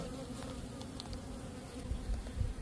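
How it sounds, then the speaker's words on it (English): Honey bees buzz over a Nicot queen rearing frame, a dense steady drone close by with occasional louder passes, no voices. "So you never want to shake any of these bees off here."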